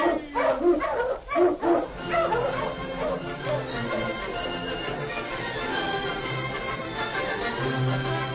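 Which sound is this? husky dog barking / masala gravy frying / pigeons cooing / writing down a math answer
husky dog barking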